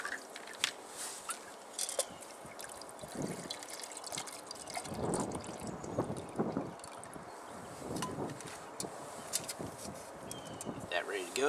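Two cups of water are poured into a pot for a Honey Stove backpacking stove fitted with a Trangia ring, giving a close, uneven trickle and splashing with scattered clinks and handling noises outdoors.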